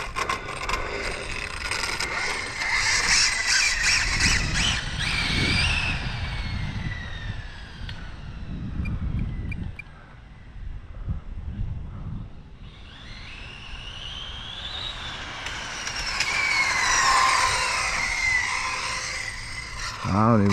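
An Exceed Mad Drift 1/8 scale RC car on a speed run, its motor whining and rising in pitch through two loud acceleration bursts, with a quieter stretch between them.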